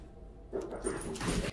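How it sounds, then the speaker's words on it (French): A dog named Luna, set off by a delivery arriving, gives faint, muffled barks and yips well in the distance, low under the room's background hum. "Ok, j'ai dû couper parce que Luna a aboyé comme une malade."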